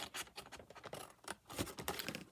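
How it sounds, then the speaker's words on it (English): Scissors snipping along a score line in paper for a frosted gingerbread box, a run of close, crisp cuts and rustles in quick irregular rhythm. "I'm just going to cut the score line"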